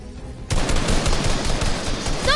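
Rapid automatic gunfire in Fortnite bursts in after a quiet half-second and rattles on continuously, loud and close, with no talk over it.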